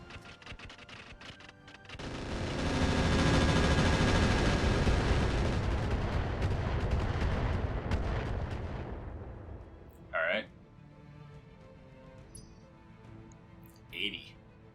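Rockets fire and explode in the mech video game Roguetech as a long, loud roaring barrage of blasts that swells and fades over several seconds, followed by two short separate bursts later on.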